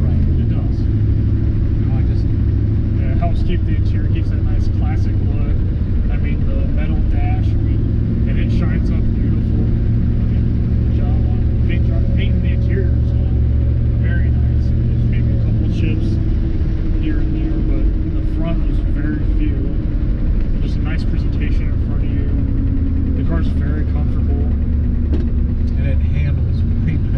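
A 1955 Chevrolet 210 street rod on a test drive gives a continuous low engine rumble and road drone from inside the cabin, with people talking over it almost the whole time.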